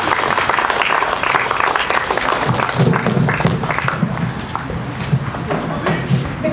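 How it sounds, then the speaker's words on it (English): An audience at a cricket academy under-12 premier league prize distribution applauds an honoured guest with sustained, dense clapping that carries evenly across the hall before easing slightly toward the end. "A huge round of applause for Mr."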